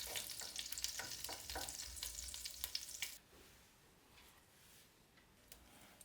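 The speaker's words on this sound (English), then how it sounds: "My meat is perfectly brown now, so I'll remove it from the pan." Browned meat sizzling in a pan as pieces are lifted out, crisp crackling pops and scrapes that suddenly drop to a faint, quieter sizzle halfway through.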